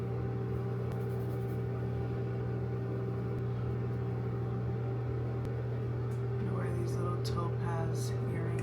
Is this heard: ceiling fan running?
yes